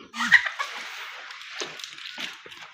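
Chickens cluck and call softly inside a farm shed compartment, a few sharper squawks rising over a steady background hiss.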